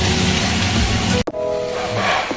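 Cabbage frying in a covered pan hisses loudly and steadily, then a brief clatter as the lid shifts, followed by a softer, continuing sizzle and steam hiss up close.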